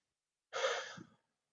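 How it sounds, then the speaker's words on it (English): A single deep breath out, a soft, close, airy exhale lasting about half a second in otherwise near silence. "take 1 deep breath and exhale"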